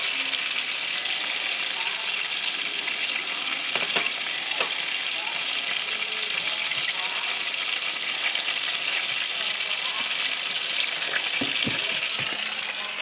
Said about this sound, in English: occasionally move around the pan, meat, so it bakes evenly and doesn't get stuck